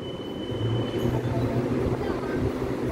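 EMU816+EMU815 Smile-class electric commuter train departing Chiayi station on the Mountain Line, a steady low motor hum and rolling rumble close by, slowly building.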